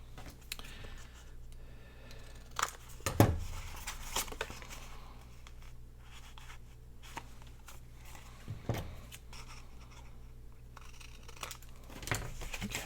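Scissors snipping paper tags for a notebook craft, a handful of faint, quiet crisp cuts spread out with pauses between them and light rustling of paper in a hushed room.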